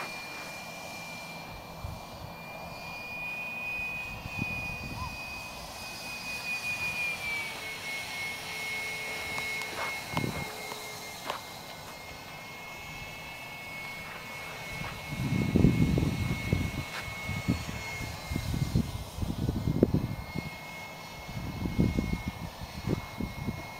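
A Gyro Jet model aircraft flies overhead with a thin, high engine whine that rises and falls as it passes. Rumbling wind gusts hit the microphone in the second half.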